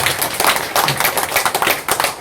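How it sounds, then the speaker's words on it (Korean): An audience at a lecture in Chungju claps loudly in a dense, uneven burst of many hands lasting about two seconds, with no voices over it. "박수도 안 치나요?"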